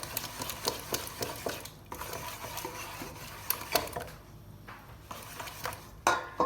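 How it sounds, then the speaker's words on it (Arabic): Vegetable oil being stirred with sugar in a bowl, a soft, steady scraping and swishing with repeated light taps of the utensil against the bowl, close and quiet. "دوك انا نكمل نخلط الزيت ونرجع"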